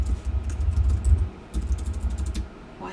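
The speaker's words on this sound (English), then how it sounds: "why am I typing it like it's a title?" Fingers tap a computer keyboard in quick, uneven bursts of soft clicks, close by, with a low rumbling hum underneath and a brief pause midway.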